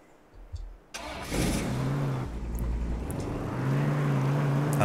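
A truck engine in H1Z1 starts up after a few knocks, then settles into a steady, rumbling idle that slowly revs higher, close and alone without talk.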